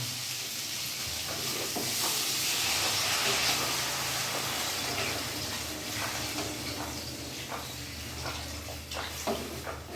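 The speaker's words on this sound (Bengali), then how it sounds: "এবার আমি জল ঢেলে দেবো।" Water poured into a hot pan of simmering rohu fish curry with green banana and potato, giving a steady loud hiss and sizzle over a stove flame, with faint clinks and stirring sounds near the end.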